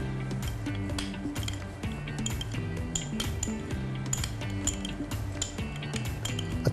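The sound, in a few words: mixing chutney and sauces in a bowl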